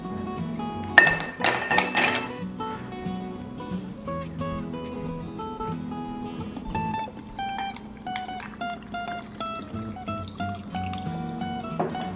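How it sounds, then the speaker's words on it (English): Dishes and cutlery clinking as a table is set for a chicken dinner, a run of close, bright clinks and clatters with a busier burst early on, then scattered taps. "Well, I am going to set the table."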